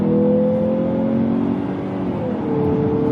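A 2023 Mazda CX-50 Turbo Premium Plus engine pulls hard under acceleration, a steady rising drone with engine harmonics climbing and briefly dipping as the revs change, loud and close from inside the cabin, with no talk.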